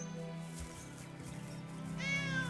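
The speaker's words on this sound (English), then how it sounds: "I found an abandoned kitten." A cartoon kitten, abandoned, gives a clear rising meow near the end, heard over a steady musical background with no talk.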